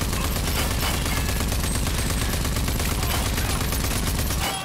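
A whole magazine fired nonstop in the Rage 2 video game, dense loud automatic gunfire lasting several seconds before cutting off.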